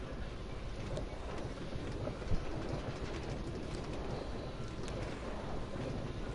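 Disneyland steam train ride rolling along its rails toward a depot, a steady rumbling clatter of wheels and carriages with faint rhythmic clicks, close and continuous throughout.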